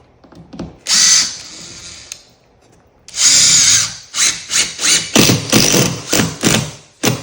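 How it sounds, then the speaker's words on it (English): A power drill drives a screw down into an old hardwood flooring board, first with two short whirring bursts, then a longer run followed by a series of quick rhythmic pulses, close and loud. "And I screw that right down into the old piece of flooring."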